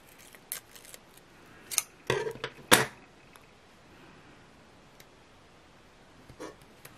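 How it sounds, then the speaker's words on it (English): Scissors snipping Scotch two-way tape into thin strips, a few sharp isolated cuts with a quick cluster of snips in the middle, close and crisp in an otherwise quiet room. "So I'm going to cut this into thin strips and put along the edge."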